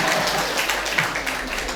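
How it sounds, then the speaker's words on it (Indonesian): An audience at a community gathering of a mosque youth organization applauds, a steady wash of crowd clapping that carries evenly through the whole moment. "Tepuk tangan Pak."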